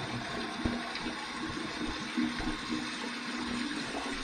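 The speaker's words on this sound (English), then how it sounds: "the warm water rinse comes right out of the tap." Warm water runs steadily from a bathroom tap during a shaving-soap rinse, a continuous close splashing hiss with no talk.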